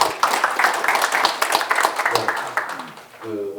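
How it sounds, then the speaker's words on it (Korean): Audience applause after a lecture at a breakfast forum, brisk clapping from a seated crowd that fades after about three seconds as a voice starts speaking. "멋진 강의를 해주신 허순 교수님께 다시 한번 큰 박수 부탁드립니다"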